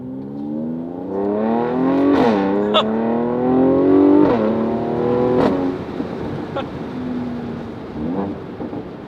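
A Mercedes-AMG C43 Cabriolet V6 engine revs up repeatedly with sharp pops at each paddle-shifted gear change, rising in pitch between shifts, loud and close.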